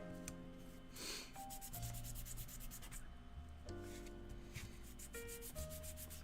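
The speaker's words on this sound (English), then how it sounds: "Let me actually jump to the higher grit sandpaper" Hand sanding with sandpaper at a workbench, a steady rubbing scrape of abrasive paper on a surface, moderately close, heard alongside music with no talk.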